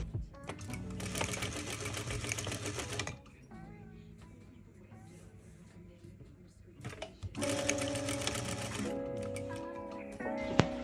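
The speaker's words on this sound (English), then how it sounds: "we're going to baste the elastic in place within the seam allowance" Sewing machine basting elastic into a sleeve seam allowance for a dress, stitching in two loud, steady bursts of rapid mechanical needle chatter separated by a quieter pause with low handling noise.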